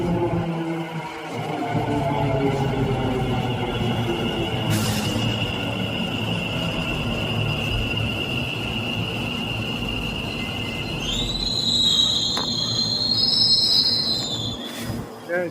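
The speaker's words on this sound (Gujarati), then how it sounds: "ભમાટી કરતી આવી છે મેટ્રો ટ્રેન." A metro train rolls into a station in Ahmedabad, a long, loud rumble with a sustained whining tone and high wheel squeals as it slows, brief voices faintly under the noise.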